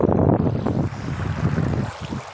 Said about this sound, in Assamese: ইয়াত বতাহ বহুত জোৰ জোৰছে মাৰি আছে